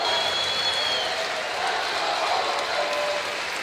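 Crowd at a Valparaiso vs. Oakland college basketball game applauding, a dense, steady wash of clapping and crowd noise filling the arena throughout, with a commentator speaking over it.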